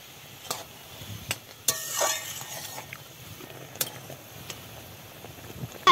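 Green chilies being stirred in a pan of simmering curry with greens, soft sizzling under scattered clinks and scrapes of a utensil, quiet and close.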